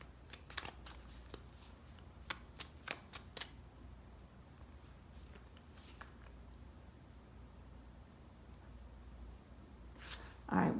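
Tarot cards are shuffled up close in a quiet room: a run of short, sharp riffling snaps early on, then sparser soft card slides later, with no speech over them.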